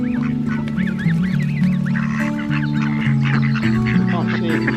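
A flock of geese and goslings honks loudly and repeatedly at close range at a country park, mixed with some duck quacks, while people talk nearby.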